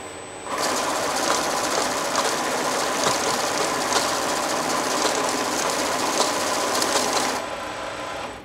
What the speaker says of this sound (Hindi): मशीन ने कैश में सबसे पहले नंबर पे एंटर होने वाले डिनोमिनेशन को सेट करके दूसरे सब डिनोमिनेशन को रिजेक्ट पॉकेट में अलग कर दिया